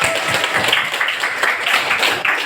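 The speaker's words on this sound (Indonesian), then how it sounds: "Oke, tepuk tangan dulu." A classroom of students clapping together in a mathematics lesson, loud, brisk, fairly uniform applause throughout with no talk over it.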